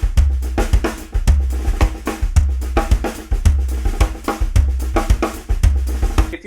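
Samba groove played on a drum kit, with bass drum, hi-hat and floor tom locked in a steady, busy rhythm: punchy low kick and tom hits under constant bright hi-hat ticks, loud and close throughout with no talking.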